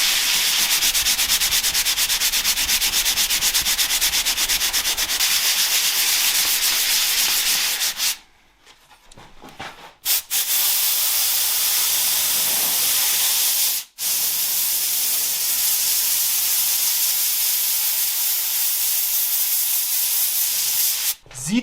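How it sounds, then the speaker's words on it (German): Continuous abrasive sanding rasps loudly against burnt wood of a tea box, pausing briefly a couple of times before resuming, steady and close with no talking. "Wir schleifen das jetzt natürlich einmal ganz kurz"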